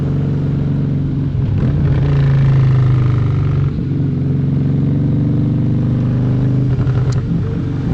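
Motorcycle engine running steadily while riding on a road at easy pace, a continuous loud drone with wind rush and slight pitch shifts as the bike eases off and picks up again, no talk.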